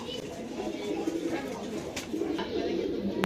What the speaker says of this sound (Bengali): খুব ভালো একটা সবুজ গলা কবুতর